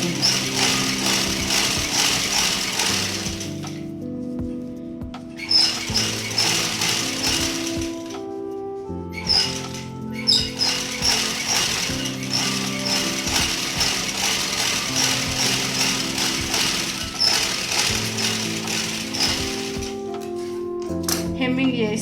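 Sewing machine stitching blouse fabric, a steady rapid mechanical chatter running in long stretches with brief pauses, loud and close.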